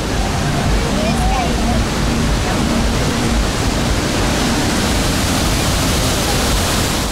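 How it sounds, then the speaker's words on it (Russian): A large waterfall on Bali roars steadily and close by, a dense, unbroken rush of falling water filling the whole stretch, with faint voices just audible beneath it. "видим водопад таких масштабов вживую"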